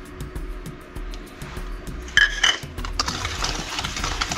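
Semolina and gram flour are mixed into nankhatai dough in a bowl, heard as a steady rhythmic low scraping and thumping, then a sharp clink of a utensil on the bowl followed by brighter, continuous rustling stirring.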